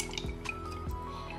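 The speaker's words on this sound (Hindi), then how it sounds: "हम पहले अपने ड्राई फ्रूट्स को धो लेते हैं" Dry fruits being washed in a small amount of water, with a few close drips and soft splashes over a brief moment.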